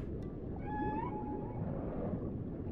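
A pink dolphin in the video game Dave the Diver gives one short, rising whistle-like call early on, set against a constant deep underwater rumble that carries on alone afterward.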